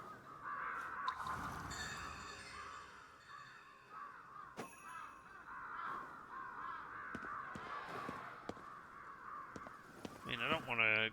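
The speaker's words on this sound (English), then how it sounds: "Got so many crows here." Crows caw repeatedly in the Ghostwire: Tokyo game world, a steady chorus of harsh calls running throughout, with drips and soft ambient game sounds and a voice talking over them.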